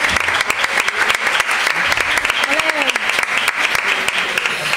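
Audience applause at a zambomba flamenco gathering as a guitarist is introduced, dense continuous clapping with a brief shout or voice rising through it, fairly loud and close.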